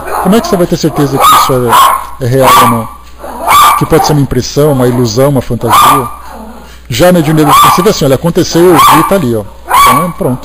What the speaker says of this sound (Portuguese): desculpem o cachorro